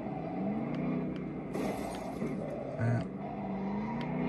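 A car engine hums in a steady, continuous drone while driving around, with faint background noise and a brief murmur of voice.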